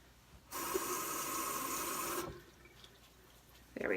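Water runs from a tap in a short steady gush lasting under two seconds while a beauty blender sponge is wetted, then cuts off into quiet, followed by a faint brief rustle.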